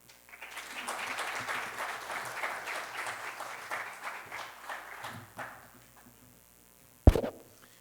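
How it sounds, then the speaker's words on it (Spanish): Steady applause from a conference audience fills the room for several seconds, welcoming a guest speaker, then fades out, followed by a single sharp knock or bump. "Pido un aplauso para nuestro invitado."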